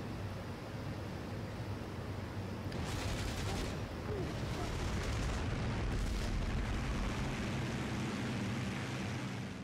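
Bombs dropped by a DH Mosquito Mk VI fighter bomber in IL-2 Great Battles burst on gun posts at a V1 launch site. The booms are heavy and rumbling over a constant engine drone, and a couple of sharper blasts cut through midway.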